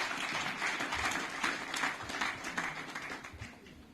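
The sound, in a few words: round of applause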